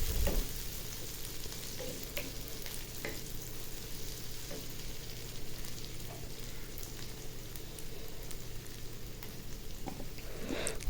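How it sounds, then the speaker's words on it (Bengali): Onions fry in a pan for a prawn kofta curry, giving off a steady, even sizzle with faint crackles and occasional stirring scrapes, heard alone without any talk. "তো এই যে দেখুন পেঁয়াজটা ভাজতেছি আমি।"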